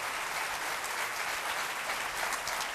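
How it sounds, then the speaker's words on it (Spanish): Congregation applause at a church sermon, dense continuous clapping that stays at an even, fairly loud level throughout without any voices on top. "Dale aplauso."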